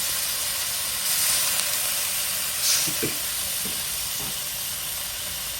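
Water hits a hot wok of stir-fried sweet liver with basil, soy sauce and oyster sauce, giving a faint, steady steam hiss with a few soft bursts and light clinks, and no voices.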